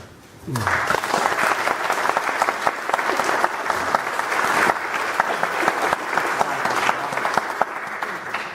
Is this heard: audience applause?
yes